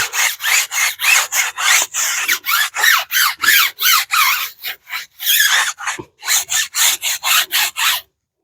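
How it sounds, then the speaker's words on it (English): A brush scrubs a car tire coated in tire cleaner, loud close back-and-forth scrubbing strokes in a steady rhythm with one brief pause before the final run. "We're gonna give it another scrub."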